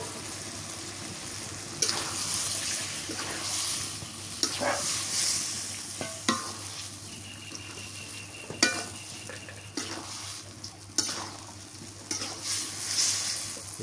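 Bang fish frying with tomatoes in a pan, a steady close sizzle running throughout with intermittent stirring scrapes and clinks of a utensil against the pan, no talking.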